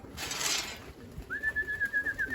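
A young homing pigeon on a loft roof gives a rhythmic, close coo after a brief burst of noise, with no voices heard.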